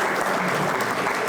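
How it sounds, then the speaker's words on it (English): A crowd at a hall of fame celebration dinner claps steadily and loudly, a dense unbroken round of applause with no voices standing out. "By a sound of applause, a round of applause."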